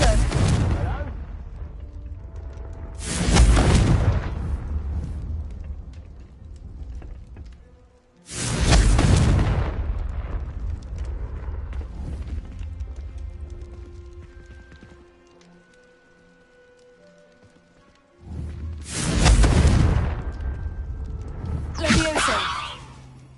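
Confringo fire spell blasts in the Hogwarts Legacy video game: three loud, broadband bursts spaced several seconds apart, each with a sharp onset and a rumbling tail, over quiet game ambience.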